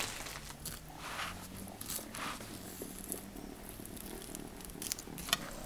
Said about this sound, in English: Whoa, the cat's purring like crazy.